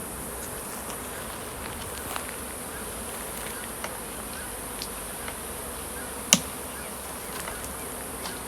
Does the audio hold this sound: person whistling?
no